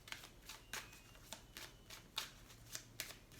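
Oracle cards from a mirrors-themed deck being shuffled during a card reading, with a steady run of soft riffling bursts about every half second, close and fairly quiet.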